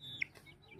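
A single brief cluck from a rooster, faint and somewhat distant over low background noise.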